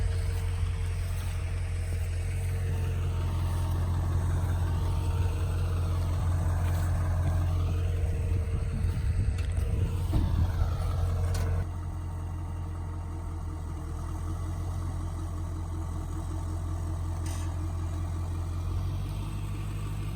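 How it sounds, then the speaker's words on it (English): Duramax diesel truck engine towing a Cummins pickup, a loud steady rumbling idle-like drone that continues for about twenty seconds and drops in level partway through, with no talk. "Oh, Duramax pulling a Cummins."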